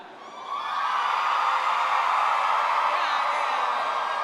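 A large crowd at a get-out-the-vote rally hosted by Michelle Obama cheers with a loud, sustained roar of whoops and yells that swells in the first half-second, then holds steady and dense throughout.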